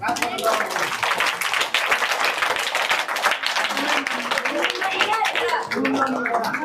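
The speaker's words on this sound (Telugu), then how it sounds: "క్లాప్స్ కొట్టండి" Students clapping together in a hostel, a busy patter of hand claps that comes in bursts, with voices talking over and between them.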